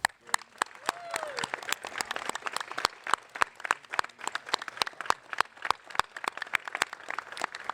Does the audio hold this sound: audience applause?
yes